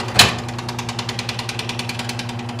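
A Wen 3920 scroll saw starts up at half speed, opening with a sharp twang and then settling into a rapid, even rhythmic chatter of the blade stroking up and down, close and fairly loud.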